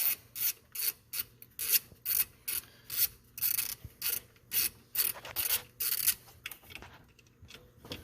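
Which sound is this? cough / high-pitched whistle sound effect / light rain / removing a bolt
removing a bolt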